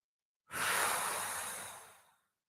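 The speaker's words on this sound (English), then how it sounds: "Give me 2 more breaths there." One long, deep exhaled breath during a slow back-pain relief warm-up exercise, close and breathy, rising quickly and fading out over about two seconds in an otherwise quiet room.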